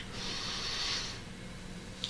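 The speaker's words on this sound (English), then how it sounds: "And take a nice sniff." A person taking a long nasal sniff of cinnamon during a smell test in a cranial nerve exam role play, a soft, close, airy inhale lasting about a second, then quiet with a faint click at the end.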